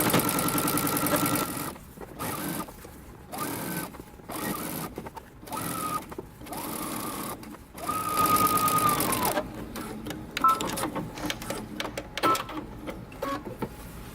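A sewing machine understitches a dress lining in several bursts of fast, whirring stitching separated by short stops, close and loud, with no voices.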